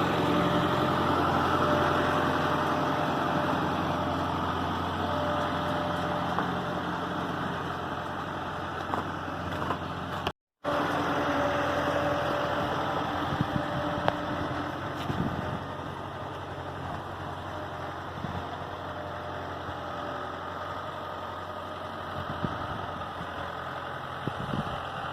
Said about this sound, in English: This tractor works really good for grinding feed.